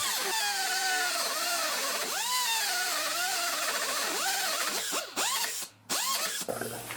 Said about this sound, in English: So now we're going to go take our little right angle cutoff tool and finish cut.